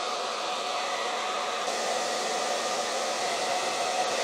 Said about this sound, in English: now what I'm gonna do is I'm gonna take my blow dryer, and this is gonna just kind of fluff up my hair just a tiny bit more